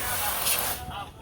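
A steady hiss of disinfectant spraying at the entrance of a poultry house, continuous and close for about a second before fading slightly.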